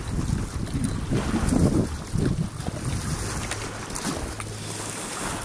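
Wind gusts outdoors on a winter trip in Dartmouth, buffeting the microphone with loud, rumbling low roars that swell and ease over several seconds.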